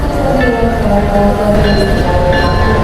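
The KA Wijaya Kusuma passenger train rumbles loudly close by, a continuous heavy rolling roar threaded with shifting metallic squeals and tones.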